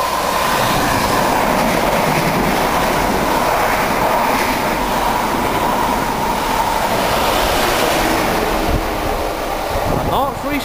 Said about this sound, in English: Right, we've got another through train approaching now.